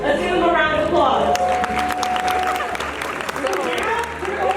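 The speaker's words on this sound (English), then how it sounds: "Let's give him a round of applause." A high school spring rally crowd claps and cheers loudly for a student athlete, with whoops and chatter mixed in and a prolonged shout rising above the dense, close applause.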